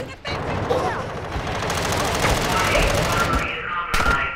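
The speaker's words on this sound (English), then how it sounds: "they're shooting somebody on the left" Gunfire in Call of Duty Warzone 2, a dense burst of overlapping shots and clatter during a multiplayer match, steady and loud, with voices talking over it.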